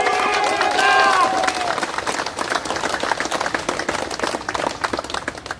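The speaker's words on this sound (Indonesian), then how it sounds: "Berikan tepuk tangan yang meriah." A crowd at a Pemuda Batak Bersatu solidarity rally breaks into sustained applause and cheering, with an amplified voice ringing over it at the start before the dense clapping carries on alone.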